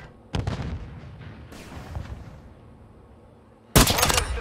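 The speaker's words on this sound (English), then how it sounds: "Stun grenade out!" A stun grenade goes off in a sharp, loud blast followed by a rumbling decay, then a second abrupt burst near the end, close and without speech.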